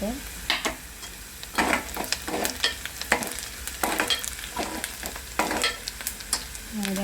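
Onions frying and being stirred in a pan for a hotel-style matar aloo sabzi, steady sizzle broken by repeated scraping stirs, close and fairly loud with no talking.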